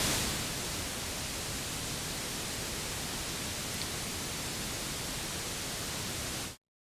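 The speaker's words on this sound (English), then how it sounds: "Let's turn pink noise on." Steady pink noise from a mixing plugin fills the clip, a dense, even hiss at constant loudness that cuts off abruptly at the end, with no talking.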